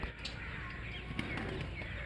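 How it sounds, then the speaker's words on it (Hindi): A young pigeon flaps its wings in flight, a soft steady fluttering heard faintly against quiet outdoor background. "ये कबूतर बच्चा उड़ाता है।"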